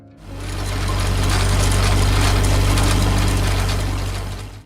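A Ford 8N farm tractor engine runs with a loud, steady mechanical drone that fades in, holds evenly and fades out at the end.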